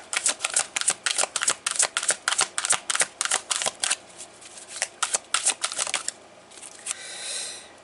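Tarot cards shuffled by hand in a rapid series of crisp riffling snaps, close and distinct, followed by a softer sliding rustle as the deck settles.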